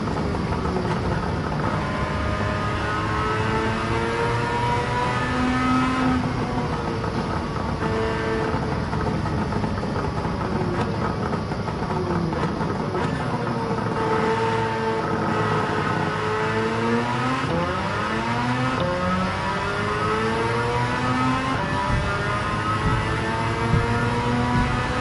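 Engine-swapped Suzuki Cappuccino in Gran Turismo 7, its engine revving hard and continuously with rising and falling pitch through gear changes and corners, loud and steady throughout with no talking.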